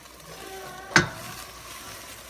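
Seasoning stirred into sizzling ground meat for an Argentine empanada filling, with a soft constant fry under a sharp utensil scrape against the pan near the middle and another brief clink at the end.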